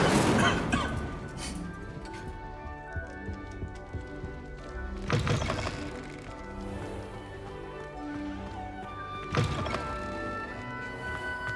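Incendio fire spell cast three times in Hogwarts Legacy, each a sharp, bright burst with a crackling tail, spaced several seconds apart over steady background music.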